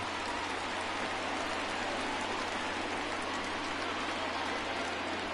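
Rain pours steadily over a baseball stadium during a Red Sox versus Rays game, making a dense, even hiss that runs unbroken from start to finish. No voices rise above it.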